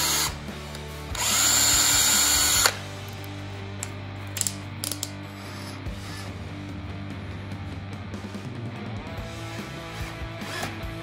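Small 2mm drill bit boring a centred hole, with one loud sustained whine of the drill running for about a second and a half, then quieter clicks and handling noises from the tool and work.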